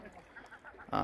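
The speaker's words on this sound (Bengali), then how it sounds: "ওই যে পাখিগুলা ডাকতেছে" Short squawking calls of birds by the sea in Italy, a quick series of honking cries ending in a louder harsh burst.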